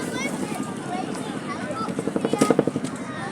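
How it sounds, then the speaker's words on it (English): A Chinook helicopter performs a pedal turn at the Southport air show in 2023, its rotor drone building into a loud, rhythmic thudding pulse near the end, heard outdoors with wind and crowd noise around it. "They immediately enter the second of the pedal turns today, where Jim climbs max performance before putting in a boost of pedal at the apex"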